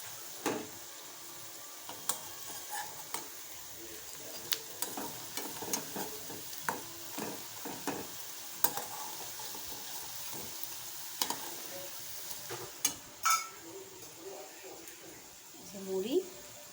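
Onion fritters (peyaji) frying in oil in a home kitchen, a steady low sizzle with scattered ticks and scraping stirs throughout, one louder clatter near the end.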